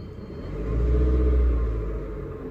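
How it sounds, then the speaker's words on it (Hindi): A parked car's engine idles with a low rumble, then swells as it is revved for about a second before easing back toward idle; the engine sound is steady, close and alone. "अब मैं थोड़ा एक्सेलरेट करता हूँ और आप ये दोनों चीज़ों को देखना ध्यान से"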